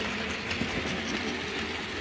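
A model train on a 9V layout rolls along the track, making a quiet, steady rumbling clatter with faint rhythmic clicks and no talking.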